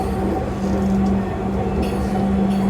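A metro train in Bangladesh runs with a steady, loud rumble and a constant low hum, with occasional brief squeals from the wheels and no voices.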